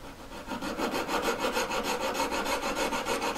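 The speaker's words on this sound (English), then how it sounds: "Holding this up at an angle a little bit and just file down a little bit. And as I get going filing, I then flatten it." A metal hand file works across the claw of a jewellery setting held at an angle, producing quick, rhythmic rasping strokes, close and clear, about six per second, with no talking.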